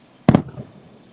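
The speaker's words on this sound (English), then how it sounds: "now we're enjoying the fireworks together, which is super cool because they're super loud" Fireworks burst outside during a Happily Ever After show, heard from home: two quick loud booms close together, then a fading rumble and quiet.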